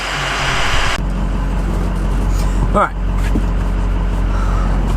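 A diesel truck drives down the road, its engine a steady low rumble with passing road noise; a brief voice speaks once near the start and a short whoosh sweeps by midway.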